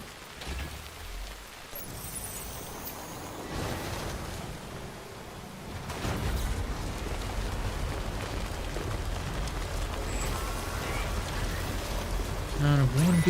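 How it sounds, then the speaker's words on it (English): Steady rain hisses all around, a dense wash of falling drops that grows slightly heavier midway and continues throughout. "let's get the heck out of this rain"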